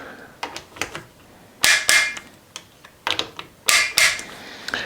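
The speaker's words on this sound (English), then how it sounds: "I'll torque it down with my little inch-pound wrench" Small inch-pound torque wrench tightening a red dot mount for an AR pistol, giving a series of close, crisp mechanical clicks in irregular bursts, a few louder ratcheting snaps standing out.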